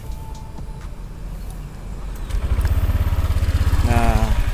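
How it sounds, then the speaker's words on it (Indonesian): A Honda Vario 150 scooter engine starts and settles into a steady, fairly loud idle nearby, with a low pulsing throb. Brief voice sounds are heard toward the end. "Kita coba nyalain untuk bagian mesinnya."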